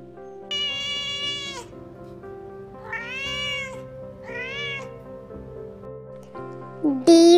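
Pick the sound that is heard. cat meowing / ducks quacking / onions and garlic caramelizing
cat meowing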